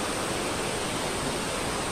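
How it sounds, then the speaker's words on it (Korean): Twin Peaks waterfall in Northern Luzon, near Baguio: a dense, constant roar of falling water, loud and unbroken, filling the whole clip with a steady rushing hiss. "와, 근데 폭포가 진짜 좋네."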